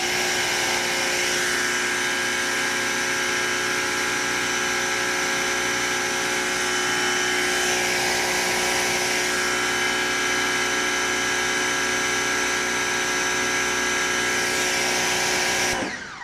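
An electric pressure washer runs steadily at a constant, loud drone, alone and unbroken, before cutting off at the very end.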